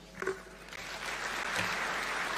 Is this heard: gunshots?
no